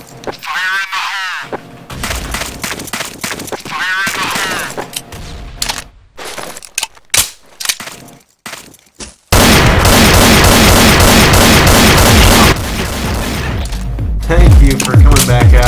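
Counter-Strike: Source match with loud bursts of gunfire and a blast-heavy stretch of rapid shots and booms, while a player shouts over the action, some shouts imitating alarm calls.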